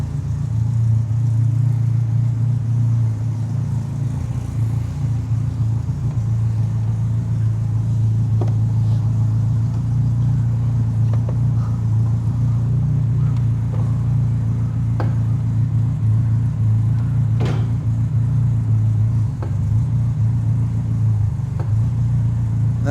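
Engine of a Royale RP30 race car running steadily during a clutch test, a loud continuous low rumble at idle with a few faint clicks over it, no talking.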